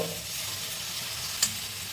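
Poppy seeds fry in a pan with a soft, even hiss, and one brief utensil tap or stir lands partway through; no voices.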